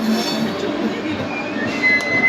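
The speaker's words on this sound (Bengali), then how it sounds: "তো 3:50 ছেড়ে দিয়েছে, একদম রাইট টাইম" A passenger train pulls out of a station bound from Howrah toward Nepal, its loud, close rumble and rolling wheel noise filling the clip, with a faint metallic squeal rising near the end.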